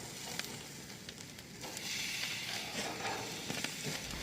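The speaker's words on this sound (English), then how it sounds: "we are going to finish grilling these" Burgers and steaks sizzle on a grill in a steady, dense crackling hiss with scattered sharp pops, close and fairly loud throughout, with no voices.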